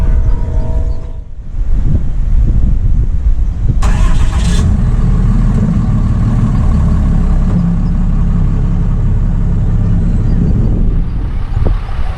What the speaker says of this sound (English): go ahead and get in the truck and back it into place